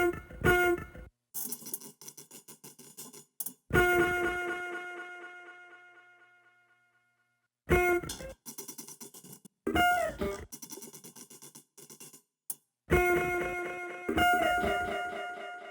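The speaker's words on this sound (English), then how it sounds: "using the delay and reverb sends, starting with the guitar chops" Sampled guitar chops played on a Roland P-6 sampler with a delay effect, short stabbed chords with gaps between them, each trailed by echoing repeats that fade away.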